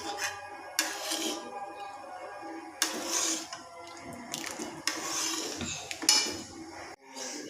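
A spoon scrapes and stirs thickening peanut chikki syrup in a metal pan, producing several close, loud bursts of rasping metal-on-metal scraping with short pauses between them and no talking.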